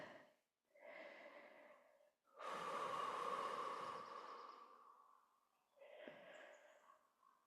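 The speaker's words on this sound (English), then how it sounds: "Taking 3 breaths here," Slow, deep breathing during a yoga session, eyes closed: three long, close breaths, each a soft airy inhale or exhale, with the middle one the longest and loudest, and no talking.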